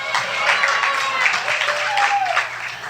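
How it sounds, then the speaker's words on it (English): At an awards event, an audience applauds the program helpers, a soft, steady wash of clapping with cheering and talk mixed in. "Yes, give them a round of applause."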